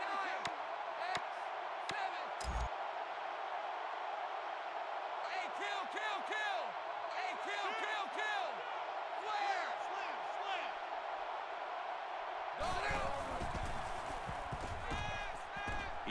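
Stadium crowd noise fills a Notre Dame dynasty game in NCAA 14 college football, a steady loud roar with bursts of cheering and whooping running throughout, under spoken commentary.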